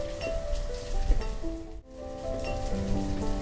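Heavy summer rain falls in the Banished village, a steady hiss of drops pattering on surfaces, continuous and fairly close, with a brief dip midway before the downpour resumes.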